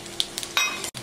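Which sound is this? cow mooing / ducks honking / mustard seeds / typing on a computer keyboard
mustard seeds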